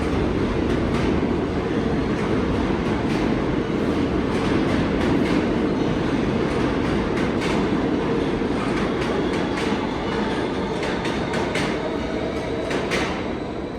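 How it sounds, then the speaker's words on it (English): New York subway E trains rumble loudly through an underground station, a continuous roar with rhythmic clickety-clack of wheels over rail joints, close and sustained throughout. "We have a bunch of E-trains going by"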